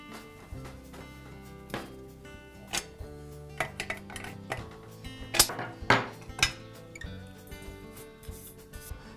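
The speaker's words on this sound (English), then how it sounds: "I'll use a wrench to unthread it from the tank." A metal wrench works the pressure gauge loose from the steel tank of a DeWalt air compressor, giving a quiet run of scattered clinks, scrapes and small metallic knocks close by, with no talking.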